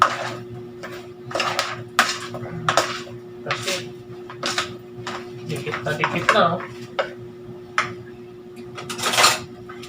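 Metal ladle scraping and clinking against a pan of crispy fried eggplant omelette, in repeated short bursts with a steady low hum underneath and a voice talking at times.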